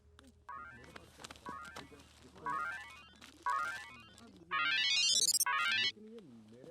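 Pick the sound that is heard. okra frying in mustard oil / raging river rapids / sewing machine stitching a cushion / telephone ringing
telephone ringing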